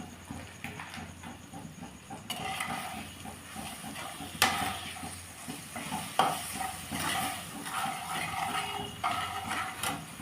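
Cumin powder sizzling in a pan of dal while it is stirred, a steady close frying hiss with occasional scrapes and knocks of the spoon against the pan.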